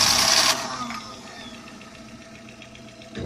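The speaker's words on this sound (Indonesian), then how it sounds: "Lalu mesin kita hidupkan." A car engine starts with a loud burst of cranking, then settles into a steady, quiet idle with a faint rhythmic ticking, during a charging alternator check.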